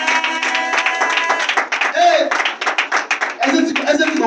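A church congregation claps along in quick, uneven bursts while voices cheer and call out over the clapping, loud and close, with the clapping continuing throughout.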